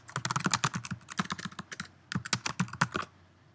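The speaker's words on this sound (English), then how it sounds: "you can either type in your search term" Close, quiet computer keyboard typing: a quick run of crisp key clicks in two bursts separated by a short pause, with no voice.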